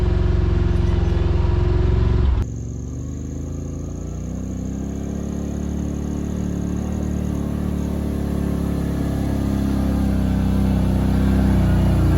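Yamaha Rmax 1000 UTV engine crawling up a steep trail in low gear, a loud steady low rumble that holds after an abrupt change early on, with no talk.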